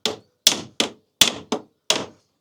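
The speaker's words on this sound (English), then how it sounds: "So I'm holding quite a heavy hammer" Six heavy hammer blows on a backing piece used as an anvil, in wood and canvas canoe building, ring out one by one at an uneven, deliberate pace, each a sharp metallic strike that quickly fades.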